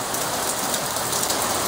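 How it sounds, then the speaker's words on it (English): Steady rain pours down at night with no thunder, a dense, even hiss of drops hitting surfaces nearby, constant and unbroken with no voices. "It's weird, it's just raining without thunder."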